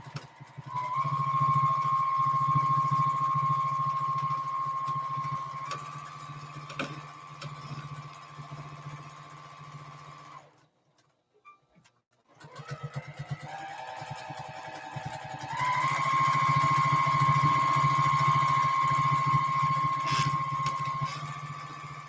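A sewing machine stitches a feather design on a baby quilt with a steady mechanical whir that holds pitch. It pauses briefly midway and then resumes at a higher speed, loud and close.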